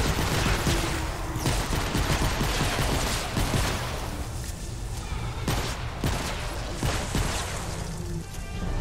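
Rapid, dense gunfire in Fortnite: Save the World, with continuous overlapping shots and impact cracks over game noise, loud and sustained throughout.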